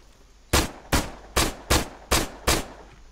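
Six sharp shots from a video game firefight ring out alone at a steady, slightly uneven pace, each a loud broadband crack with a short decaying tail.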